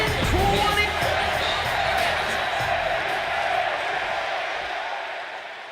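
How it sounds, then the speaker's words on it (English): A wrestling arena crowd in Chicago roars in the video game WWE 2K26 ahead of CM Punk versus Eddie Guerrero, a loud continuous cheer that slowly fades. "just listen to this crowd here in Chicago."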